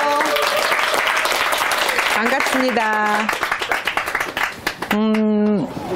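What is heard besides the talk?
audience applause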